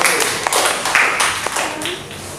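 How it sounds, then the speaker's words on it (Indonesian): A short burst of applause from a small group of schoolchildren in a classroom, brisk hand claps that quickly trail off. "Tepuk tangan untuk Allah."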